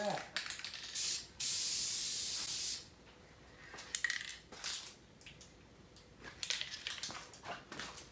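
Aerosol spray paint hissing from a can in a garage beside a Mustang, one long loud burst followed by several short spurts, with light clatter between them.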